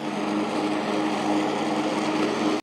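A Kubota ZD1011 diesel zero-turn lawn mower runs steadily while mowing, its engine a loud, continuous drone that holds at a constant level close by, with no talk over it.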